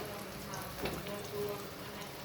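Omelette frying in a pan at a Marathi street food stall, giving a quiet, steady sizzle with a brief scrape as it is turned.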